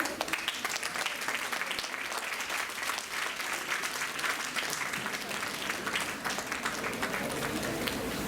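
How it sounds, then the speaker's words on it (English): Large audience applauding students at a science day event, a sustained dense wash of clapping from a crowd, even and continuous for the whole stretch, fairly distant in a big hall. "please give a huge round of applause for them."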